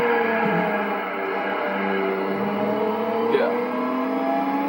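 A Mercedes-Benz SL drives in Gran Turismo 4, its engine a steady sustained drone that climbs in pitch with a brief gear-shift dip, loud and continuous throughout.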